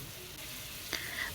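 Cumin paste drops into a hot frying pan of oil, giving a short sizzle burst over a steady frying hiss, with a brighter crackle rising near the end.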